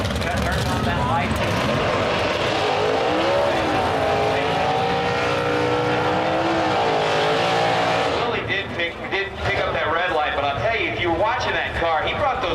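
A HEMI drag race car launches down the strip at a HEMI shootout, its engine roaring and rising in pitch, then breaking into rougher bursts, all heard under continuous commentary.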